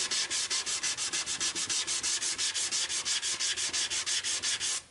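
Hand sanding across an alder wood chest lid makes a brisk, rhythmic rasp of about two dozen even back-and-forth strokes, close and clear with no voices.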